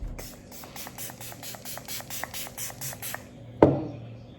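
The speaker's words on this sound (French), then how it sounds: "C'est un spray pour la tronche." A watermelon face mist spray is pumped: a rapid run of about a dozen light rhythmic clicks, then one short, sharp puff of spray close up.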